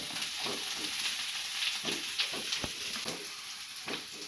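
A pan of coconut oil fries quietly with a soft, continuous sizzle, broken by repeated short scrapes and stirring strokes at an uneven rhythm.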